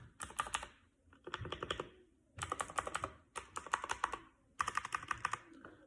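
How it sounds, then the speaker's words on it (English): A full-size mechanical keyboard with Jixian blue switches is typed on in bursts of rapid, crisp clicking keystrokes, close and alone, separated by short pauses. "It's a Jixian blue switch"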